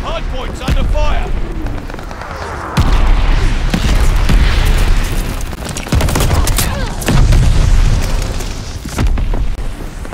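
Mortar shells explode in heavy booming bursts on a Call of Duty Vanguard Hardpoint match on the Sub Pens map, loud and repeated over a rumbling battlefield din with scattered crackling, while game voices call out.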